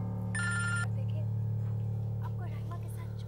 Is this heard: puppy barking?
no